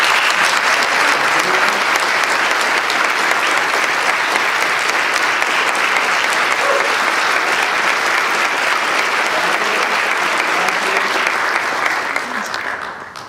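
A large audience claps steadily and loudly, a dense wash of applause sustained throughout before easing slightly at the very end.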